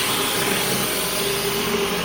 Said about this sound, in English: Surface cleaner.